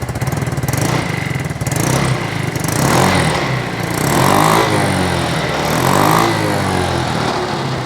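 A 2023 Vespa GTS HPE2 scooter engine with an aftermarket Akrapovic exhaust runs close by with a throaty, thumping exhaust note, idling and then revving up and down a few times.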